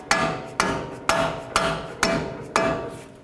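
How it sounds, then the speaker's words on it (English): Six sharp hammer strikes ring out at a steady half-second rhythm, close and loud with metallic ringing, as the lower strut bolt of a 2007-2010 Chrysler Sebring front strut is driven into the knuckle. "You can drive them in with your hammer or rubber mallet"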